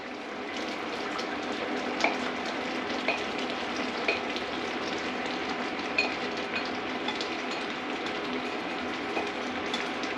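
Shrimp and vegetables frying together in a pan for beef and shrimp chow mein, a steady close sizzle with occasional light clicks of stirring and no talking.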